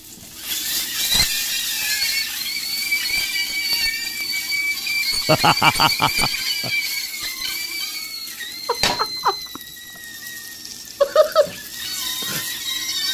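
High, thin squealing tones drift over a steady sizzle, like frying sausages screaming, with occasional short crackles and bursts cutting in.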